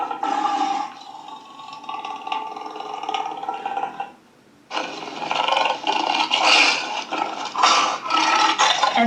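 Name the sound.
storyteller imitating a lion's loud roar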